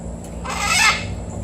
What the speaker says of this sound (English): she's a pretty bird. Pretty white bird.